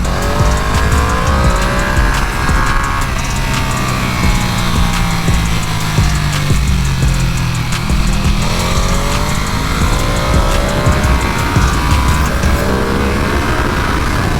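A Ducati Panigale V2 sport bike on a race track roars loudly and continuously, its engine pitch sweeping up and dropping through repeated gear shifts, with heavy wind rush throughout and no speech.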